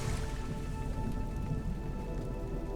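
Steady rain in a stormy ocean sleep soundscape, a dense continuous patter of drops on a surface with a low rumbling wash beneath, even and unbroken throughout with no voices.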